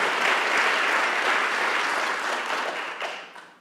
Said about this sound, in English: let's give a round of applause to our students